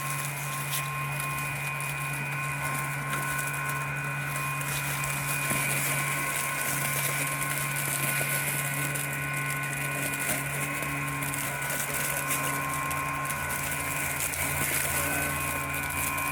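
A Lymow One robot lawn mower runs steadily on a lawn, its motors giving a constant mechanical hum and whine with little change throughout.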